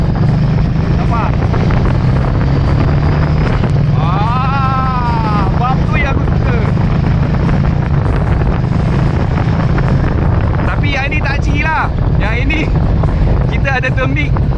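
An 800cc Ducati motorcycle with an L-twin engine and Termignoni full exhaust system, a deep continuous engine rumble with rising revs heard under someone talking and wind buffeting the microphone.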